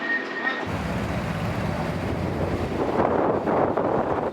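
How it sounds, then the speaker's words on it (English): Steady wind rushing across the microphone while riding in Quito, Ecuador, a broad low roar that swells slightly louder toward the end, with no voices. "It's a little windy."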